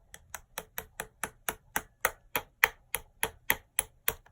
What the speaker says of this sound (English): break out the hammer again and gently